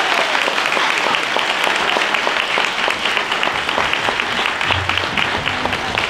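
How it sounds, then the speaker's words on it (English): A loud, dense round of audience applause in a school auditorium for the tech crew of an elementary school musical, sustained and even throughout, with faint crowd murmur underneath. "with a big round of applause"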